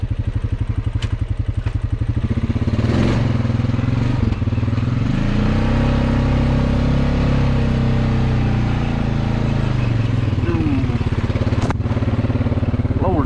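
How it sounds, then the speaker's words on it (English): Trail bike engine running loud and close throughout as the rider works along a muddy, flooded river trail, with steady low rumble rising and easing under throttle changes and a few clattering knocks. "This is a trail bike, not a submarine."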